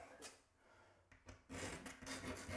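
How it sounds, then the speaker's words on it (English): Old, badly stained tile grout being scraped and scrubbed out by hand, a faint close rasping, rubbing sound in short strokes that turns louder and steadier. "Basically, you have to re-grout it,"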